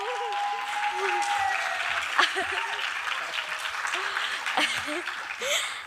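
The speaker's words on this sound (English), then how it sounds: "So give it a big round of applause for her." An audience at a Bharatanatyam arangetram applauds the dancer's mother, a sustained wash of clapping with some chuckles and voices mixed in, fairly close and steady throughout.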